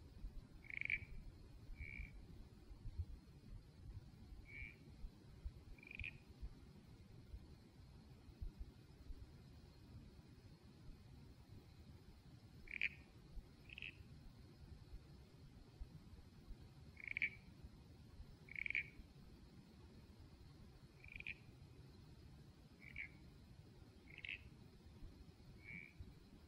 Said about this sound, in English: Bibrum's toadlet, Pseudophrony bibruni.